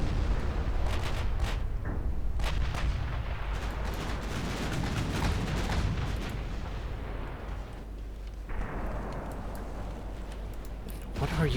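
Cruiser gunfire in the naval warfare game Ultimate Admiral Dreadnoughts, with heavy booming salvos and rumbling blasts rolling through the first half and returning later, under someone talking.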